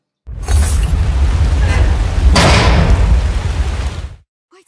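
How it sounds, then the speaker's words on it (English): Thunder rolls through a scene in the PlayStation horror game Forbidden Siren, a loud sustained rumble with a sharp crack partway through that swells again before cutting off. "If I time with the thunder, my hits get covered up by the noise of the thunder."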